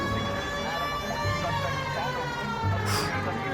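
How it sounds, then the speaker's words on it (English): A steady wailing police siren in the video game LA Noire, loud and continuous, with a person talking over it and faint engine noise underneath. "See, why do I put the siren on?"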